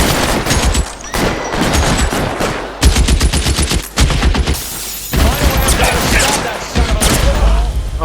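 Video game gunfire in L.A. Noire: repeated loud bursts of rapid shots with short gaps between volleys, continuing for several seconds, with a voice faintly underneath.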